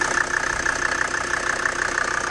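A Mercedes G-Class 250GD, converted to turbo diesel and fully overhauled with a mechanical pump, idles steadily close by, giving off an even, continuous rumble with a faint rhythmic knock and no voices.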